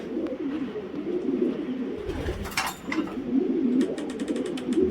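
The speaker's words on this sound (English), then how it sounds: "they're cooing around" Racing pigeons in a loft coo in low, rolling murmurs that overlap continuously, with a brief rustle of wings or movement and a few faint higher chirps.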